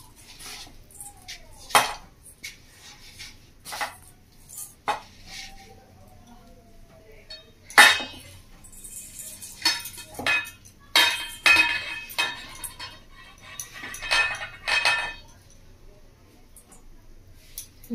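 A chicken leg lollipop is coated in toast crumbs in a bowl, giving scattered clinks and scrapes against the bowl in short bursts, with quiet pauses between.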